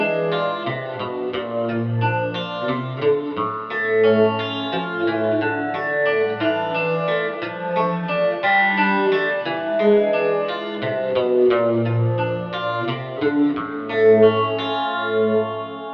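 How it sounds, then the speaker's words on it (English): Electric guitar run through an Alexander Syntax Error pedal with its delay speed turned down into flanger territory, giving a steady, sweeping, slightly sickly modulated tone over sustained chords and notes, loud and continuous with no talking. "put the delay speed down in flanger territory and turn the syntax error into a flanger"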